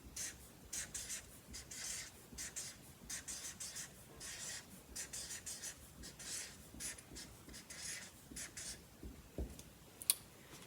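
A pen moves across paper in soft, close scratching strokes, short bursts of writing separated by brief pauses, quiet throughout, with one small tap near the end.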